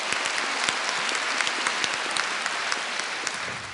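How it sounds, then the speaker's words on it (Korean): Audience applause of encouragement in a hall during a live Buddhist Q&A talk, dense steady clapping from many hands, fairly loud and continuous with no voices over it. "격려 박수 부탁드립니다"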